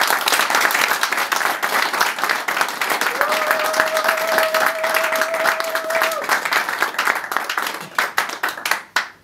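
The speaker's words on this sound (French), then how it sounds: "Je vous demande d'applaudir l'honorable Jean-Bertrand Ewanga" Sustained applause from an audience at a party gathering in Paris, welcoming Jean-Bertrand Ewanga, secretary general of the UNC. Dense, steady clapping fills the whole stretch, with a faint electronic tone running through the middle and the clapping thinning into scattered claps near the end.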